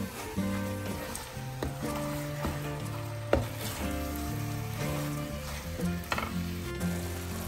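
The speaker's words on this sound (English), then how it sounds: "stirring occasionally, like a kind of stir fry, which is also called bagarin" Ground beef and potatoes stir-frying in hot oil for kheema aloo, with a steady crackling sizzle throughout and occasional spoon scrapes and knocks against the pan, close up, under soft background music.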